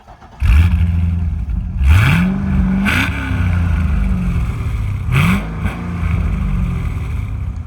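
A stock-exhaust C6 Corvette Z06 with a 7-liter V8 idles loudly up close, then blips its throttle in a few sharp revs that rise and fall, with a deep rumble between them.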